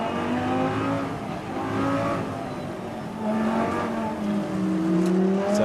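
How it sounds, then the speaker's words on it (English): GT race cars at the Navarra circuit in Spain drive behind an Audi safety car, engines droning and revving in overlapping waves at moderate distance, steady and continuous. "the cars making their way down towards turn 9 through that tight right-hander"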